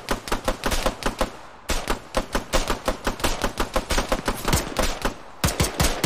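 Rapid bursts of Arma 3 gunfire crackle close and loud, sharp repeated shots in quick rhythmic volleys with brief pauses between strings of rounds.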